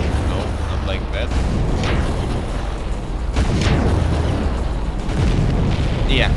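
Grenade launcher blasts in Bandits: Phoenix Rising, a run of dull booms and bursts set against a constant rumbling game bed, with a player talking over it.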